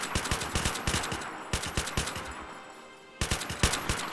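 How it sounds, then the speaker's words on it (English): A minigun fires in a Minecraft match in three rapid, rattling bursts of evenly spaced shots, close and fairly loud, separated by short gaps. "He has a minigun."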